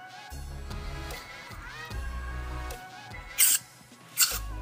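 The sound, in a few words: spraying aerosol brake cleaner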